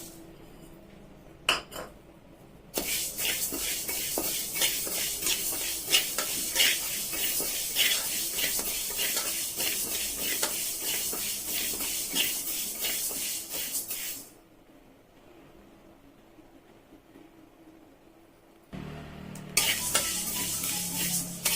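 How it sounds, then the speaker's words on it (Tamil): Fenugreek seeds dry-roasting in a pan for homemade chilli powder, a dense crackling rattle as they are stirred, pausing for a few seconds near the end before resuming. "வெந்தயமா வறுத்து எடுத்துக்கலாம்."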